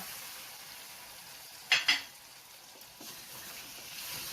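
Crab with five-spice, clove and a splash of water gets stirred in a pan: a low ongoing sizzle broken by two quick bright utensil scrapes near the middle, with nobody speaking.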